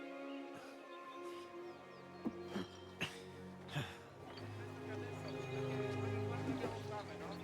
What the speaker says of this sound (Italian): Un cavallo c'è.